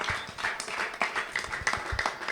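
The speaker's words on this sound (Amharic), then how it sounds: "አጨብጭቡ ለጌታ ክብር።" A church congregation claps together during a prophetic worship service, producing a brief burst of irregular hand claps of moderate loudness, with no voices heard.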